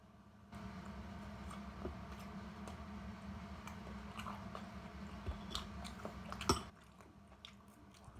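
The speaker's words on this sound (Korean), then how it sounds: "치즈 되게 많이 씹어야 되네요" Cheese sticks chewed close up, soft repeated biting and chewing sounds at low volume with an occasional louder crunch near the end, heard alone without talking.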